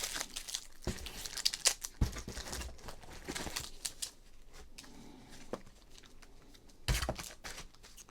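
Packs of Legends of Indy racing collector cards being torn open and handled up close, with crinkling foil wrappers, sharp tearing bursts and soft card shuffling in a quiet room, no talking.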